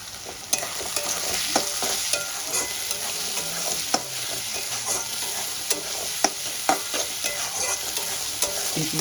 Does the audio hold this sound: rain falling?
no